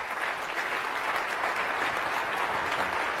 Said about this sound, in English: I'm going to let the applause go for a second